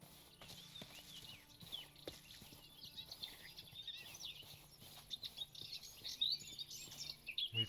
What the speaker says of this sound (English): We've got the birds chirping in the distance.